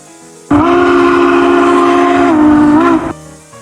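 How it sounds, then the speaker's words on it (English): A Hancock three-chime steam whistle on the SP 4449 locomotive in a Roblox train game gives one long, loud, steady blast of about two and a half seconds, dipping slightly in pitch near the end before cutting off. "the SP 4449 is given a proper Hancock third chime"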